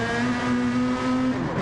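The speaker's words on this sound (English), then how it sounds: "Ooh, that car sounds nice, doesn't it?" A race car engine in a PS4 racing game drones steadily at high revs throughout, a constant loud buzzing tone with no break or pause.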